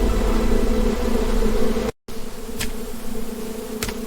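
A dense swarm of honeybees defending their hive against a raiding honey badger fills the air with a loud, continuous buzzing that drops out for a moment, then resumes.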